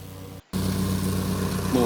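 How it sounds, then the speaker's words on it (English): A gas-powered weed whacker string trimmer runs steadily up close while clearing a backyard for a putting green, its engine droning with a brief cutout partway through. "More whacker footage."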